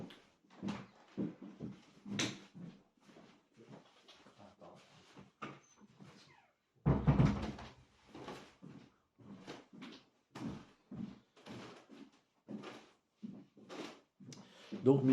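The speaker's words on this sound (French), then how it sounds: "je vais juste fermer la porte là-bas pour qu'il n'y ait pas de bruit" A door is shut once partway through a Torah lesson, giving a single sharp, broadband thump amid the teacher's intermittent talking in a quiet room.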